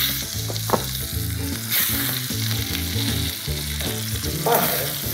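Boiled baby potatoes, crushed and tossed into hot butter in a frying pan, sizzle and crackle steadily with stirring noises throughout, alone with no talk.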